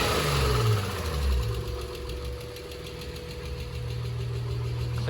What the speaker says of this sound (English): If I could just get the idle to hang there instead of the other spot,